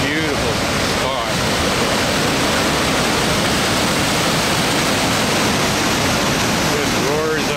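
Roaring rushing water of Anyox Creek, flowing down from the mountains, fills the whole clip with a loud, dense, unbroken wash, like a fast creek tumbling close by.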